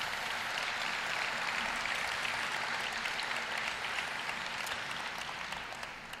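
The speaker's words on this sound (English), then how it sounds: "please give those folks a round of applause" A large crowd at a high school graduation ceremony applauds steadily in a dense wash of clapping that holds for several seconds, then begins to fade near the end.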